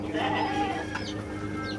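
A farm chicken gives soft, low clucks close by, faint against a steady background hum, with a couple of brief higher calls toward the end.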